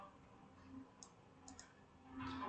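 Computer keyboard keys pressed while typing Korean characters in PowerPoint, heard as a few sharp, close clicks spaced apart over a quiet background.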